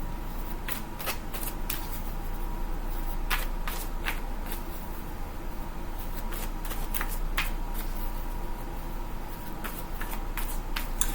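Oracle cards being shuffled by hand, with steady riffling and slapping that goes on without a break and is close and clear, with no talking over it.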